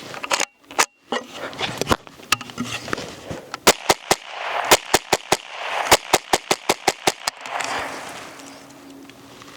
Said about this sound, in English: let's shoot some onions